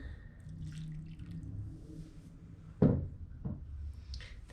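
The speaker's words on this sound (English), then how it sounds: "Pour a little more in." Pickling liquid pours into a jar of sliced ginger as a faint, quiet trickle, broken by a sharper knock of glass or a lid near the middle and a few soft clinks.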